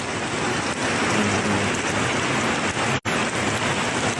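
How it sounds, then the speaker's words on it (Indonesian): Heavy rain pours steadily and close during a flash flood in Manado, a dense, unbroken hiss with no pauses and a brief dropout near the end. "pagi ini hujan memang sangat deras"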